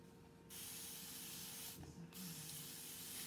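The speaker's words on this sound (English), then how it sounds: "And these are our spray bottles," Two bursts of hissing spray, one long and one shorter after a brief pause, close and fairly quiet.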